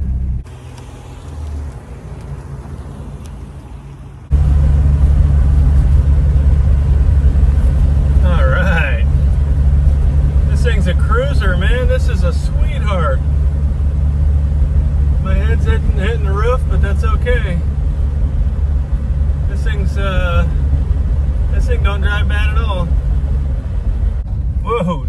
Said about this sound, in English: Okay, we're in drive and she is moving.